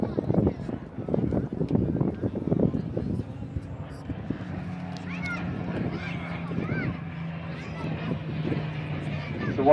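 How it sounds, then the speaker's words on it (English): A Dakota and a Hurricane flying at an airshow: a distant, droning propeller engine hum with a wavering pitch that rises and fades. A commentator talks over it and wind buffets the microphone. "So watch as the aircraft pitches up from the left, from the right, the Dakota and the Hurricane."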